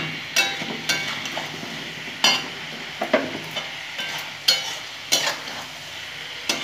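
A vegetarian cabbage curry, lightly sweetened with sugar, is stirred in a pan: a low frying hiss runs underneath while a spoon scrapes the pan in about eight separate, fairly loud strokes, with no talking.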